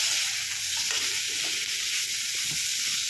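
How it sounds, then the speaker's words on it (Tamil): Tomato and coconut fry in hot oil in a pan for horse gram kurma, giving a loud, continuous sizzle with occasional stirring scrapes. "அதையும் போட்டு நல்லா ஃப்ரை பண்ணணும்"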